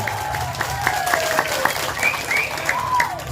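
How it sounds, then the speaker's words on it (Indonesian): A crowd at an Islamic sermon gathering breaks into clapping, a rhythmic patter of hands mixed with sustained tonal sound from a voice or music over the noise. "Tepuk tangan"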